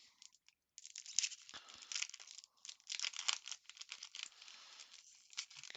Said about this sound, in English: It's a foil wrapped thing. Looks like probably a card of some kind. So let's open it up and see how it is.